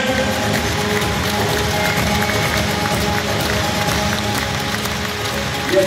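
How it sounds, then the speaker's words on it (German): Crowd applause for a volleyball bronze medal ceremony in a sports hall, a continuous wash of clapping from many hands, steady and moderately loud throughout. "Ein Applaus bitte in die Ferne."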